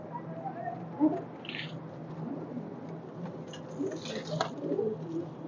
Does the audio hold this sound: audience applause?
no